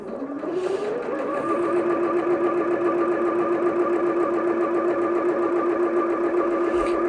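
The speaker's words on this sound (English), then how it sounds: "So you can carry on sewing. Just slow it down a little bit." A Bernette B38 sewing machine runs continuously as it sews stitches, its motor whirring up to speed in the first second and then holding a steady, loud, even hum with rapid needle clatter, no talk.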